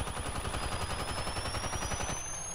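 Rapid continuous automatic gunfire from the battle royale video game Apex Legends, loud and dense with rhythmic bursts, cutting off near the end.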